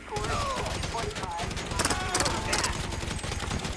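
Rapid gunfire rattles in the video game GTA 5, bursts of shots mixed with game noise while someone talks over the action.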